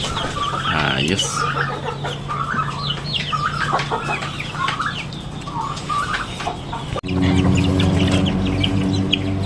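Brahma and native chickens cluck and call repeatedly at close range, along with scattered chirps and a steady background hum. Someone speaks briefly over them.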